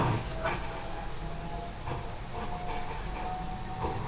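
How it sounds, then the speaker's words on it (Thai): An elevated Pink Line skytrain rumbles and hisses past at a distance, a steady mechanical drone with faint clicks and a thin whine. "หุ้ยรถไฟฟ้ามา"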